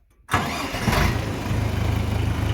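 JINMA 404 four-cylinder mini tractor starts after a brief moment of near silence, catching abruptly and settling into a loud, close, steady idle with a pulsing rhythm.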